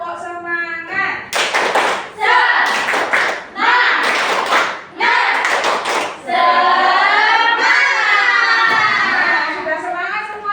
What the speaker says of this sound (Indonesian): mari kita tepuk semangat dulu biar jadi lebih semangat. Ayo tepuk semangat.